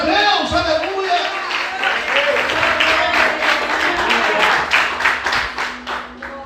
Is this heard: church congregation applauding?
yes